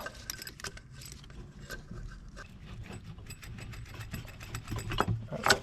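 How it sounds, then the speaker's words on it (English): A ratchet wrench clicks and rattles while long bolts are removed from the fuel pump of a 2009 Cummins engine on a 2010 Peterbilt semi-truck, in quick uneven bursts of metallic clatter close by. "Here's the long bolts. Let's see if we can get them all out."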